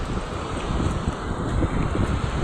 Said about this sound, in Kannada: ಎಷ್ಟು ಚೆನ್ನಾಗಿ ಗಾಳಿ ಬೀಸ್ತಾ ಇದೆ ಗೊತ್ತಾ